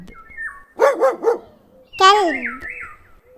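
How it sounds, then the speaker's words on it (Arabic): A dog barks in two bursts, first a quick run of three barks and then a longer drawn-out bark, loud and close with nothing else around it. "كلب."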